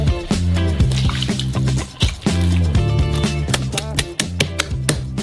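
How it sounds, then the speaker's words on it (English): Oily dough made from flour, yeast and oil is kneaded by hand, giving wet squelching and slapping sounds in irregular bursts, fairly close and without speech. "knead it with your hand."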